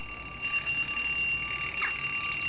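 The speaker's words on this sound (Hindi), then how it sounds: "ये 6:45 का अलार्म किसने लगा दिया इसमें?" An alarm clock set for 6:45 in a morning home scene of an animated children's cartoon rings steadily with a bright, sustained electronic tone lasting the whole short stretch, with no talking over it.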